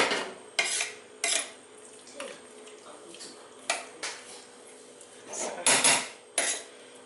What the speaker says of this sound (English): So still trying to stir it in and making sure that it goes round there.